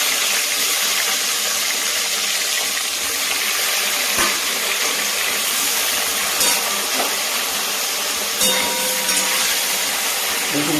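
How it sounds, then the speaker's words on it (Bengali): Eggplant pieces frying in hot white oil in a wok, a loud, steady, hissing sizzle that runs unbroken throughout, with a few faint clicks and no talking. "এবার বেগুনগুলো একটু ভেজে নেব, সব বেগুনগুলোকে ভেজে নেব।"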